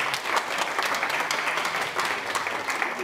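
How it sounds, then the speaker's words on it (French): An audience at a meeting of a political party federation claps in a steady, even burst of applause that fills the room, close and continuous with no talking over it. "nous applaudissons d'abord"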